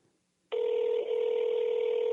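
A telephone on speakerphone starts ringing after a brief silence, a loud, steady electronic ring tone that holds continuously to the end.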